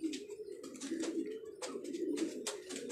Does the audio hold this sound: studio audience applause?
no